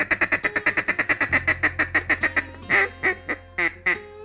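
Arkansas mallard ducks quack in a rapid, close run of about twenty evenly spaced calls that slow into a few louder, drawn-out quacks, with a low hum beneath.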